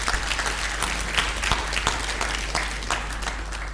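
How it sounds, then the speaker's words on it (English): A round of applause from the audience at an agricultural finance learning event, steady and moderately loud, with a few sharper claps standing out across the dense patter. "Let's give them a round of applause in absentia."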